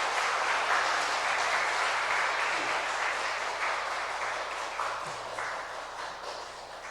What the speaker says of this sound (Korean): 이 시간 목사님 나오실 때 박수로 환영해 주시면 고맙겠습니다